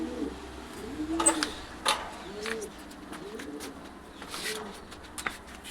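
Racing pigeons, including young birds, coo at a pigeon farm in Gaighata, with soft repeated low coos and a few sharper calls in a steady, moderately close flock.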